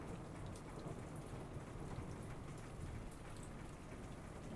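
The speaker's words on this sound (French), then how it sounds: "Il pleut fort et ça tombe et ça tourne." Heavy rain pouring down near a beekeeper's apiary, a dense, loud, steady roaring hiss with no breaks and no voices.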